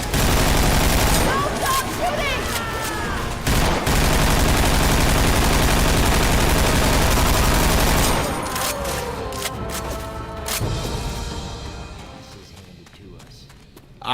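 Sustained, dense gunfire in the Left 4 Dead 2 video game, loud and continuous for most of the stretch before thinning out toward the end, with chaotic game noise and voices mixed in.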